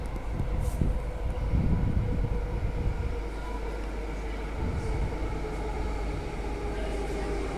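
A train rumbles at Perth Stadium Station, a steady low rolling drone that stays even throughout, heard at moderate distance with light outdoor ambience.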